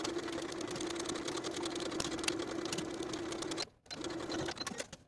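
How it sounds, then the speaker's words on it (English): A sewing machine hums steadily along the bottom edge of a kimono jacket with a 3/8 inch seam allowance, pausing briefly and then restarting. "Then I'll sew this bottom edge with a 3/8 inch seam allowance."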